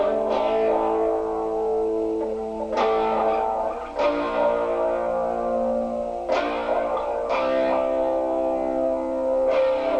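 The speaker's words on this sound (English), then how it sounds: "it's a little bit of slapback" Distorted electric guitar chords through a Boss ME-20 with light modulation and slapback strike every second or two, each followed by a short, quick echo and a ringing decay, played alone with no talking.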